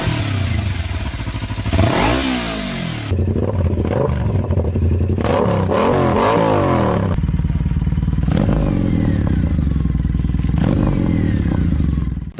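Benelli TNT 250 two-cylinder motorcycle engine revving loudly and continuously, with rising and falling pitch sweeps as the throttle is blipped, heard close up with no talk over it.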